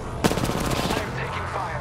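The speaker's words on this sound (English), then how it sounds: "I'm taking fire." Rapid automatic gunfire in a shooter video game while the player is being shot at, a dense burst of shots close and loud, with no talk.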